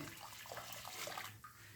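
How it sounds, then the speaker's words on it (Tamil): White water is poured into a pot while making Thiruvathirai kali, with a steady splashing gush that runs for a couple of seconds and then thins out. No one speaks. "வெள்ளை தண்ணியை இதில் ஊற்றணும்"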